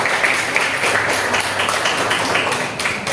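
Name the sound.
audience applause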